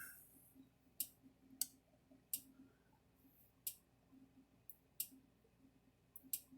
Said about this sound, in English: There it goes, a clicking.